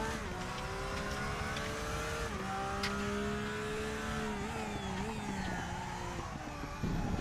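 Porsche GT3 race car in the RaceRoom racing game pushed past the limit into a slide, its engine droning steadily with shifting pitch and a tire-scrub hiss, loud and continuous for several seconds.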